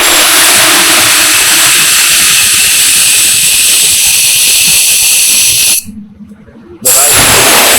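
Royal Enfield Himalayan 450 engine running with bent valves, a loud, steady hissing, rushing mechanical noise that cuts out briefly near the end before resuming.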